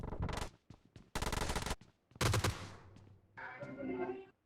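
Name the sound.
Vector gunfire at close range in PUBG Mobile video game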